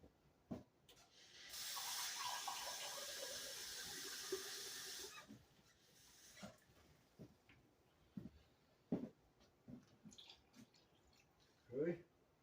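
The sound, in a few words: water running from a tap into a cup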